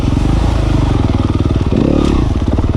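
A Yamaha YZ250FX dirt bike fitted with a full disc brake guard roars loudly up close, its engine pulsing rapidly with a brief throttle change midway and no talking.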